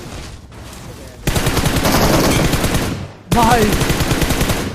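Rapid automatic gunfire from an M762 rifle in a battle-royale video game, fired in loud sustained bursts at a buggy's tyre, with a brief pause before another burst; someone speaks briefly.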